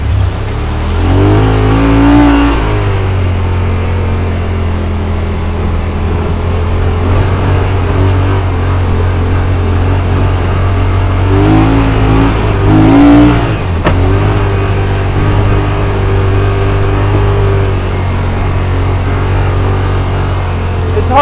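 A 2021 Yamaha Wolverine RMAX2 1000 Limited Edition side-by-side pulls hard in high gear on a trail, its engine droning loud and steady with swelling revs and gear changes, close up and without talk.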